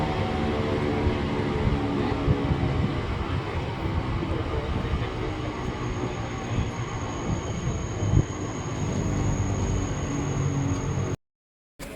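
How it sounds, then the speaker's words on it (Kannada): The SMVT Kakinada Superfast Express sits at a railway station, giving a constant loud rumble with broadband noise that cuts out abruptly near the end. "SMVT Kakinada super fast express ಈಗ ವಿನಯ್ ಅಂಬಾಡಿ ರೀಚ್ ಆಗಿದೆ"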